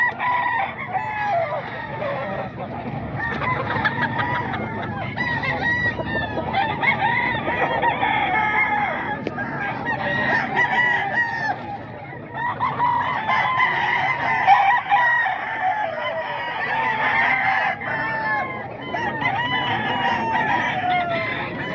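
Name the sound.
rooster crowing and chickens clucking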